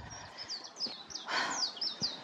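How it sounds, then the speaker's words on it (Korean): Several birds chirp and trill repeatedly along a quiet cycling road in Hwacheon, South Korea, bright calls overlapping at moderate distance with faint low rumble beneath. "여기 새소리 장난 아니에요."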